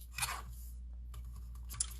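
Scissors snip through note card paper in two short, quiet cuts separated by a brief pause.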